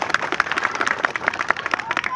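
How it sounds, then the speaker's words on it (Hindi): Audience clapping for the team at the inauguration of Chandrashekhar Park, a burst of dense, fast applause from a gathered crowd, loud and close throughout. "सब उनके लिए ताली बजा दें।"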